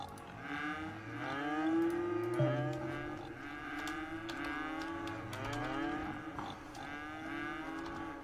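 Cattle on a farm in the city-building game Cities: Skylines low with several overlapping drawn-out moos, steady and moderately loud throughout with no talking.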